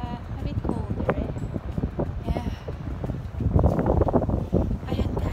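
Cold wind gusts at the seaside and buffets the microphone with a steady low rumble while people talk over it.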